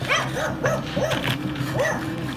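A dog barks repeatedly in short yips and bow-wows, several sharp barks in quick succession, fairly close and loud over a steady background.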